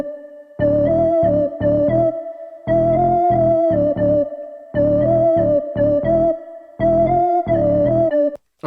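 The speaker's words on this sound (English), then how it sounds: "We've got a nice sounding Prophet bass." Bass line from a Prophet synthesizer for a 2000s R&B beat, loud and alone: short punchy notes in a repeating syncopated pattern, with brief gaps between phrases and a steady mid tone running underneath.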